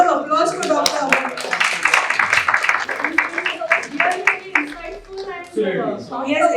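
A medical conference audience on endocrinology and diabetes gives Dr. Amar a short round of clapping. Speakers keep talking over it, and the claps stay partly buried under the voices.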